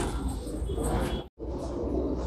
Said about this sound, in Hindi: आइए कबूतर देखिए